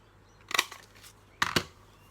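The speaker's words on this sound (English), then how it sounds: "I've taken the hearts border punch and I'm just going to go along and cut out a scrap" A hearts border punch cuts through a paper scrap in two crisp, close punching snaps about a second apart, with small rustles between them in a quiet room.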